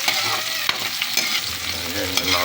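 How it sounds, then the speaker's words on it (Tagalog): Garlic, onion and tomato sautéing in a pan for an udon dish, a loud, dense sizzle running continuously with a few sharp utensil knocks as the mixture is stirred. "Sangkot sa muna natin yung kuan uh, sibuyas, kamatis, bawang para mabango"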